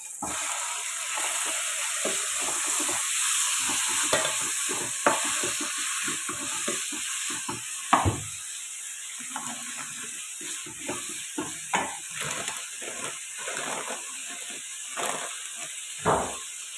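Shallots sautéing in a pan for a quick chicken curry, with a steady frying sizzle and repeated clicks and scrapes of a utensil stirring close by throughout, no voices.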